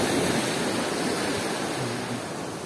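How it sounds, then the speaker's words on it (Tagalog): Big ocean waves surge and roar in a constant broad wash of surf, loud and near, with no voices over it. "Kita mo, laki ng alon."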